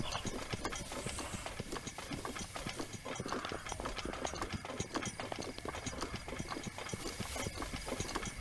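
Horses charging in a video game make a rapid, continuous patter of hoofbeats, clattering steadily with mechanical clicks throughout and quite faint.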